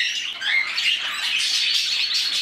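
Budgies chatter with rapid high chirps and squawks in a bird room, overlapping busily and fairly close.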